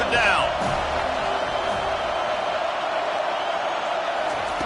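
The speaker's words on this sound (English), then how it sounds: "Decibels rising as the crowd gets behind this defense on 3rd down" A football stadium crowd roars as the defense lines up on third down, a steady, loud wash of noise sustained throughout beneath a commentator's voice.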